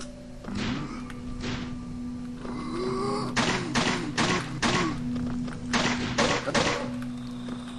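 Trapdoor in the Eldritch video game, heard as a series of heavy wooden thunks and knocks, several in quick succession, close and fairly loud.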